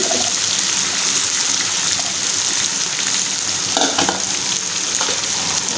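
Chopped green chili goes into frying chicken mince, setting off a loud, dense sizzle with wet spattering and a burst of stirring around the middle, close up with no voices.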